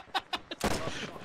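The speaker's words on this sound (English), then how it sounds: "We're currently being zeroed in by enemy artillery." Enemy artillery fire in the military shooter ARMA 3 lands as three short sharp reports in quick succession, followed by a heavier, louder blast that rolls into a sustained rumbling roar.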